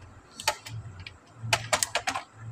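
Typing on a computer keyboard while creating an HTML bookmark file, with irregular clusters of crisp key clicks close to the mic over a low steady hum, a few isolated taps and then a quick run, and no talk.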